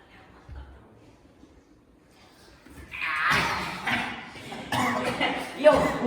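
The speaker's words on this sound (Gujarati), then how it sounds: "ઉધરસ ચડી ગયો." Children cough several times in a classroom during a 24-hour lock-in challenge, with a few short, harsh bursts in the second half mixed with voices talking nearby.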